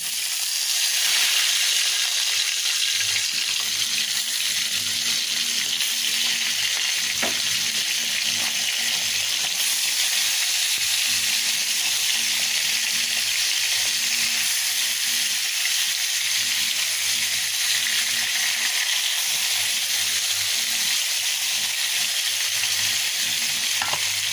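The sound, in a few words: fish frying in hot oil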